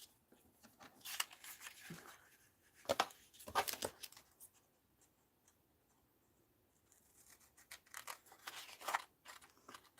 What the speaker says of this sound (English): cut this strip.